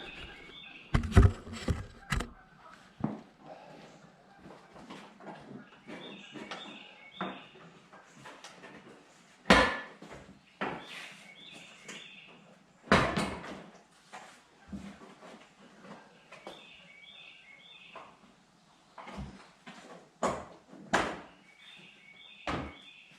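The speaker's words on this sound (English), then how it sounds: "So now we're just going to give it a little tug and get that grill off" Clamped grille being tugged free from the front of a Jeep Wrangler: a series of sharp plastic snaps, knocks and rattles at uneven intervals, close by, with quieter handling noises in between.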